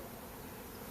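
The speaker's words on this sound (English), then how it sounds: "this is a really haphazard swarm. The bees are all over the place" A honeybee swarm buzzes steadily and densely around a log hive, filling the whole moment with a continuous hum like many bees flying close by, with no voices.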